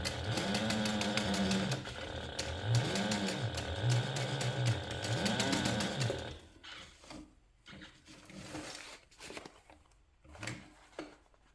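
A sewing machine topstitches through a handbag lining and seam allowance, running in several steady whirring bursts with rising and falling motor pitch, then stopping and giving way to quieter handling clicks.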